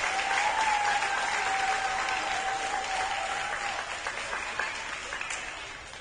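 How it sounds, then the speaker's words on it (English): An audience at a primary school sports awards night applauds parents, a dense, steady clapping that holds loud before slowly tapering toward the end. "I want a big round of applause first for all of your parents who've already been thanked"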